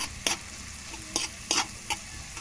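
Garlic and onion sizzle in butter in a pan, a low steady frying hiss broken by a few sharp stirring scrapes, faint and close, with no voices.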